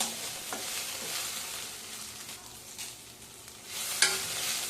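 Okra roasting in a pan for chutney, stirred with a faint continuous sizzle and occasional soft scraping strokes, one sharper clink near the end.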